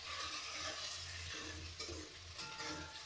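Onions frying lightly in a pan while being stirred, a steady dense sizzle with a low hum and occasional spatula scrapes, close and continuous, no speech.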